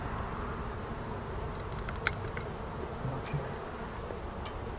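Honeybees fanning at a hive during a hive rescue, a continuous close, dense buzzing drone with a few faint clicks and knocks over it.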